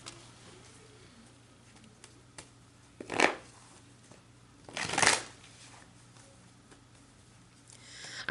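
Tarot cards are shuffled up close in two quick riffling bursts, then a faint third shuffle at the end, against a quiet room hum.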